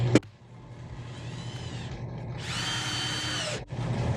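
A power drill drives screws into bathroom wall framing in two sustained, whirring bursts close by, with a brief pause between them and a sharp knock at the start.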